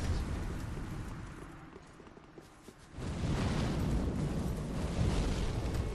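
A bomb blast in Dark Souls 3 during a 2v2 tournament match, a broad low rumble that swells to a sustained roaring burst at mid-clip and stays loud to the end, with no talk over it.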